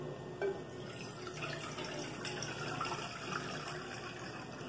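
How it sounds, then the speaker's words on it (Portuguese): Water poured from a container into a cooking pan in a kitchen, a soft continuous pouring and splashing at close range with no voices. "a gente vai colocar a água aqui nessa panela"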